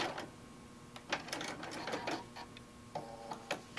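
Sewing machine stitching a short back tack on a sewing machine cover, brief mechanical rattling bursts and clicks close by at low volume.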